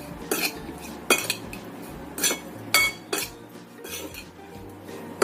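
A seasoned mixture of shrimp and chicken is stirred in a bowl, giving a run of sharp clinks and scrapes of utensil against dish, repeating roughly every second, close and alone.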